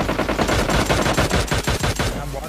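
Automatic gunfire in the mobile shooter PUBG Mobile Lite rattles out in loud, rapid bursts of closely spaced shots, nearly continuous for a couple of seconds, with no talk over it.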